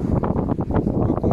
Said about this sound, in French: il y a un peu de vent, il y a une quinzaine de nœuds de vent